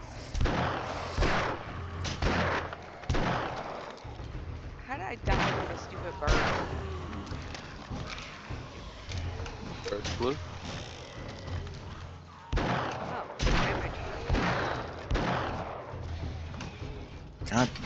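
Gunfire from the video game 7 Days to Die, a string of sharp shots and bursts spread across the stretch, loud and close, with a voice talking over much of it.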